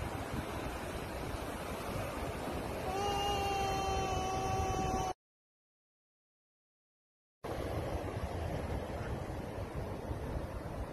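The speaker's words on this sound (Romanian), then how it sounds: "Uite, acum vine valul mare." Big ocean wave surging toward the shore during beach wedding photos, a loud continuous wash of surf and wind noise, with a steady tonal hum partway through and a brief dropout before the roar resumes.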